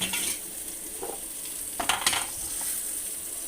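Tomatoes dropped onto cooking greens (bhaji) in a pan, with a steady hiss of sizzling, a few stirring scrapes and clinks near the middle, close up and with no talk.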